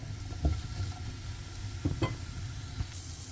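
Onions sautéing in a pan with salt, garam masala and chilli flakes for a paneer tikka roll: a soft, steady sizzle runs throughout, close but quiet, broken by a few light stirring clicks and no talking.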